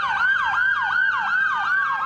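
A police siren wails, rising and falling rapidly in a repeating yelp pattern, loud and continuous, like an emergency vehicle passing nearby.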